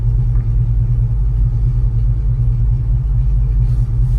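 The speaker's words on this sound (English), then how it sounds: "Again, car settles into a super stable, nice solid idle." A 1968 Chevrolet Chevelle Malibu with a big block engine idling, a loud, steady low rumble that stays even and stable for the whole stretch, close by and without voices.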